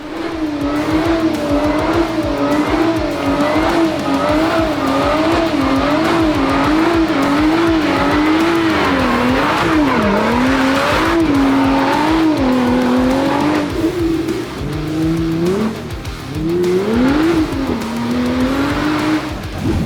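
A Jeep Wrangler Rubicon labours up a wet, muddy hill track, its engine droning loud and close with a rhythmic wavering pitch as the wheels scrabble, then dips and surges through gear changes near the end.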